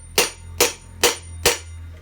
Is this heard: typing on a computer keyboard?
no